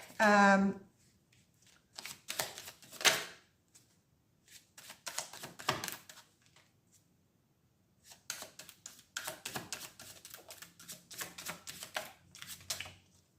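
Tarot cards being shuffled and riffled during a psychic reading, bursts of crisp flicking and snapping in several runs with pauses between, close by, with a voice briefly heard at the start.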